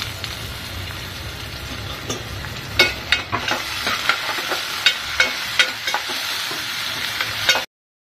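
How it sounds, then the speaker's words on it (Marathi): Tomato dropped into a hot frying pan with curry leaves, giving a steady loud sizzle broken by sharp crackles and pops and a few stirring scrapes, with no voices. "आता मी याच्यात टोमॅटो टाकते."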